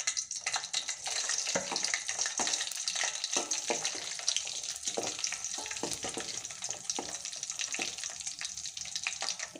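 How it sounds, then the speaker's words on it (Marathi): Matar poha cutlets frying in hot oil over a medium flame, a dense, continuous crackling sizzle with quick pops throughout, close and steady. "तर चला आता आपण कटलेट आपले छान फ्राय करून घ्यायचे आहेत ब्राऊन कलरचे होईपर्यंत"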